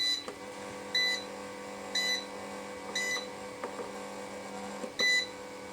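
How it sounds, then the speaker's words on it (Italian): Buzzer alarm of a DIY bench power supply going off when the output reaches 29 volts: five short electronic beeps, roughly one per second, clear and near over a steady electrical hum. "Adesso è arrivato a 29 volt, è partito il cicalino"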